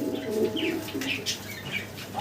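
Domestic pigeons, a pair of Shou King birds, coo softly in a loft, with a few soft chirps and a brief wing flutter mixed in at close range.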